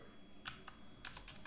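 Keystrokes on a computer keyboard during coding work, a few separate clicks followed by a quick cluster of taps, faint and close with no talking.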